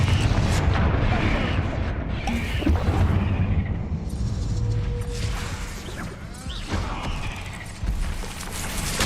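Confringo and Bombarda spells in Hogwarts Legacy hit with dense, loud blasts and crashes amid creaking and clattering debris, forming a busy, continuous barrage with no clear pauses.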